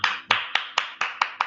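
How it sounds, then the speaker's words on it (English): Hand clapping in a small group after an astronomy session, seven sharp evenly spaced claps in a steady rhythm, close and fairly loud with no talk. "A huge round of applause, I guess, is called for."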